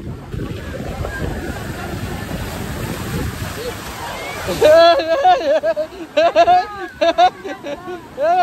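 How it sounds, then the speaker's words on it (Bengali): Big sea waves break on a beach shore in a roaring, rushing wash mixed with wind buffeting, then people talk loudly over the surf in the second half. "কেমন ঢেউ আজকে? হ্যাঁ বিরাট ঢেউ ভাই।"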